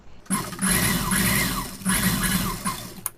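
An electric sewing machine stitches a blouse lining in two close bursts of steady motor whir with a light needle clatter, loud and near, with a brief click as it stops.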